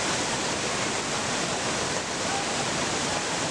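Tujuh Bidadari waterfall at Tambora near Bima, a steady broadband roar of falling water filling the whole clip, loud and unbroken, with no voices.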